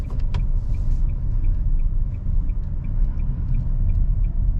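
Inside a 2023 Nissan Almera, a low steady engine and road rumble holds under light acceleration, faint ticking sounds scattered over it and no talk.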